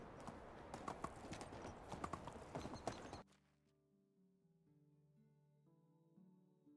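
Horse hooves clip-clopping in a brisk rhythmic gallop while riding in the game Medieval Dynasty, close and prominent for about three seconds before cutting off, followed by soft background music.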